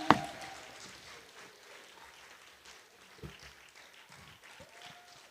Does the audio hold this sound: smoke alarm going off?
no